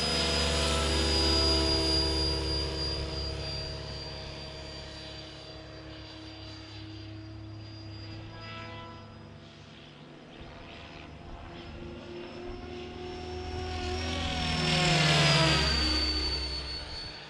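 A radio-controlled helicopter running on 12S LiPo batteries makes high-speed passes, a sustained high-pitched whine rising and falling as it approaches and recedes, with a loud pass near the end.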